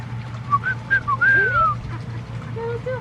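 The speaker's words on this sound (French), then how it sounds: "c'est le sifflement que Bibou elle a décidé d'adopter" Bibou whistles a specific short tune in an animal enclosure: a series of clear rising and falling whistled notes over about three seconds, with a low steady hum underneath and no talk.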